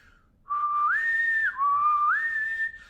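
A person whistles a clear, sustained melody that swoops upward to a higher held pitch, dips, then climbs again, close and loud with no talking.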